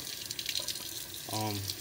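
Cold tap water runs over a pipe, a soft rushing stream that swells louder toward the end of the short clip.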